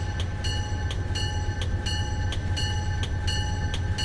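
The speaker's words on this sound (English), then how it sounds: "Ladies and gentlemen, please board the train." Diesel passenger train idling at Grand Central in Train Simulator 2016, a steady low engine rumble with a sustained tonal whine and faint regular clicks, heard alone and close.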